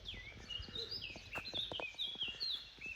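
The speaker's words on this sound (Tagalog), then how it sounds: "Sarap naman ng ibon." Birds sing outdoors in a town, with high, repeated chirps and whistled phrases carrying over a faint background of scattered knocks and distant noise.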